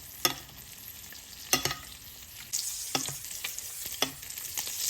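Pork chops frying in a stainless steel pan while being basted with butter: a soft, continuous sizzle with regular sharp spoon clinks and scrapes about every second.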